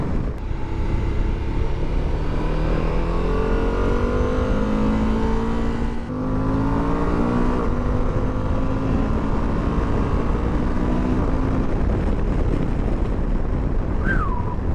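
A 2023 Suzuki V-Strom 1050DE motorcycle engine pulls hard through the gears, its rising revs climbing repeatedly with a brief dip at a shift, heard loud and steady over wind rush.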